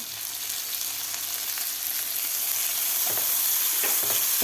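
Finely chopped medium tomato fries in a pan with a constant hissing sizzle. Intermittent stirring scrapes rise slightly louder toward the end.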